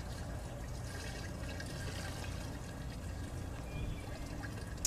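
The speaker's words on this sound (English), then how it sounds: "here's 3 gallons of waste veggie oil. I'm going to dump this right in." Three gallons of filtered waste vegetable oil poured into a container for making homemade biodiesel, a steady sloshing, trickling flow heard close up and continuing without pause.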